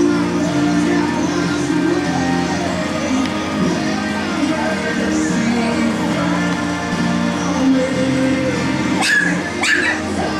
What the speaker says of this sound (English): Y'all can hear their little barks.